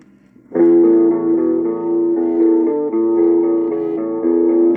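Loud, dense music played from a vinyl record starts abruptly after a brief quiet moment and plays steadily with sustained tones, a short burst of recorded song.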